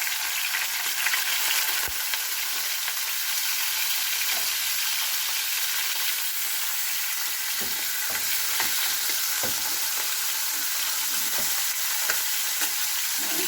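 Chicken frying in a pan for chicken asado, a steady broad sizzle and hiss running throughout with occasional soft stirring clicks and scrapes, no talking.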